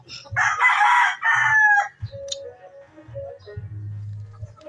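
A young rooster, a stag, crows one loud, close cock-a-doodle-doo, followed by softer clucks and low rustling from other fowl nearby.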